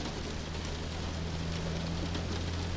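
Steady rain in the American Truck Simulator / Euro Truck Simulator 2 game, a dense, even hiss with a low hum beneath it, constant and close throughout with no talking.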